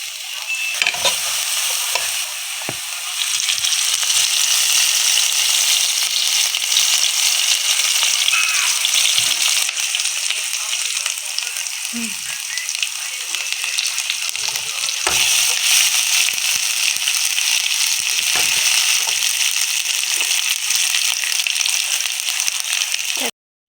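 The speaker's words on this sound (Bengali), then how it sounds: "আমি এই থেতো করে রাখা রসুন এবং পেঁয়াজ কুচি এগুলো দিয়ে দিতেছি কড়ার মধ্যে" Crushed garlic and chopped onion hit a hot kadai for a village-style chicken and potato curry, giving a loud, steady sizzle and hiss throughout with occasional scrapes and clinks of a stirring utensil, no one speaking.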